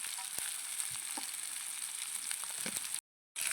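Onion fries in a pan outdoors, a soft steady sizzle with scattered light clicks and taps, cutting out briefly to silence near the end.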